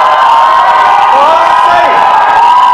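A loud audience at a college of art alumni meet in Chandigarh cheers and whoops continuously, a dense crowd roar with rising shouts filling the whole stretch.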